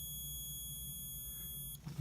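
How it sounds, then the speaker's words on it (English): A steady, high-pitched electronic battery-check beep from an Olympus OM-10 film camera sounds continuously for nearly two seconds, then stops. "It beeps at you and turns on the light to let you know that the battery is in fact powered"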